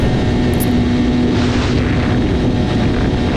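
A motorcycle engine roars loud and constant during a wheelie practice ride, with heavy wind rush and a steady droning hum throughout.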